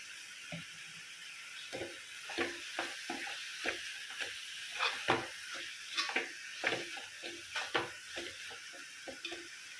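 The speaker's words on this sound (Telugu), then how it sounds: "ఇవన్నీ కూడా బ్రౌన్ కలర్ వచ్చే వరకు వేయించుకోవాలి" Cumin, garlic, ginger and coriander fry in a pan for an egg curry, a soft constant sizzle broken by many close clinks and scrapes of a spoon stirring against the pan in an uneven rhythm, with no talk.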